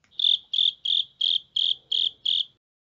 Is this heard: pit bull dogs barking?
no